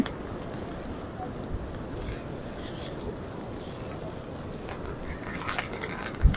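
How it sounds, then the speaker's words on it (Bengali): Strong sea wind roars steadily with a rumbling, gusty buffet and distant surf at Saint Martin's Island, a continuous loud wash with no clear breaks. "এসব প্রচন্ড পরিমাণে বাতাস কিন্তু আমরা লক্ষ্য করছি"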